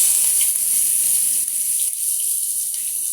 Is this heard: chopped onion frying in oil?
yes